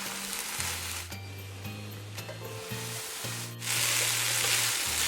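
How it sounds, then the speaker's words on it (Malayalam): Broccoli stir fry with no coconut, a simple Kerala-style thoran, being stirred in a pan, giving a steady close sizzle with soft scraping and rubbing as the vegetables are moved, growing louder and brighter toward the end. "നമുക്കൊന്നും കൂടി ഒന്ന് ഇളക്കിയിടാം."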